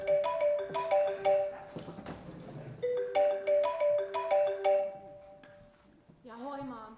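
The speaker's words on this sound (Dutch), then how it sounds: "straks mijn telefoon gaat en dat ze bellen tot mijn huis" A melodic phone ringtone plays a repeating electronic chime pattern in short bursts, loud and close, pausing once midway before resuming, with a brief voice at the end.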